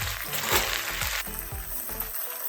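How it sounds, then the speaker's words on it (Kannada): Gongura (roselle) leaves sizzling and crackling in hot oil, a steady frying hiss with stirring noises, close and moderately loud, no talking. "ಎಣ್ಣೆ ಬಿಸಿಯಾಗಿದೆ, ನಾನು ಸೊಪ್ಪು ಇದರೊಳಗೆ ಹಾಕ್ತಾ ಇದ್ದೀನಿ"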